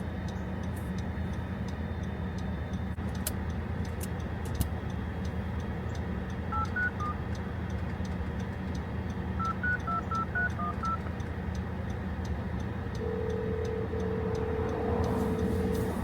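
Telephone keypad dialing tones, two short bursts of rapid beeps spaced several seconds apart, then a longer steady tone, heard faintly over a constant low hum inside a car, with no talking.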